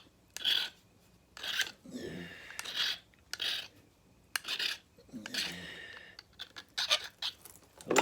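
A file rasps a flintknapping tool to a sharp needle point in short, close, repeated scraping strokes separated by pauses, with no voices.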